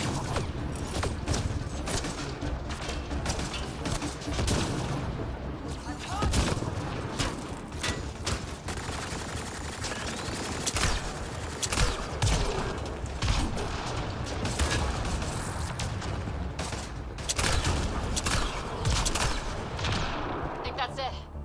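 Sustained gunfire from combat in the video game Mass Effect: Andromeda: dense, continuous volleys of shots and impacts with game effects throughout, with voices speaking at times in the mix.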